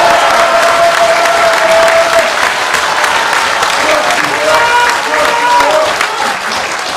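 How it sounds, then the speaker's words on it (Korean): Loud, sustained audience applause at a talk on early-voting statistics, dense clapping that carries on for several seconds with some crowd voices mixed in. "박수 한번 주십시오."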